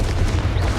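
A Confringo blasting spell explodes in the Hogwarts Legacy video game, a short, loud, continuous booming burst with heavy low rumble and no speech.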